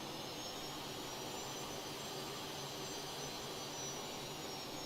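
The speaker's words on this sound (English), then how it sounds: "It does a bit of a howl at a certain rev." An aircraft's jet engine runs at a certain rev with a steady high howl over a broad, even roar, loud and close throughout without any talking.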